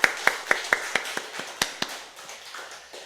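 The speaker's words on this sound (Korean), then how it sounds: "영광의 박수 올려드리겠습니다" A church congregation at a Sunday worship service claps in unison, about nine sharp, evenly spaced claps that echo briefly and then fade.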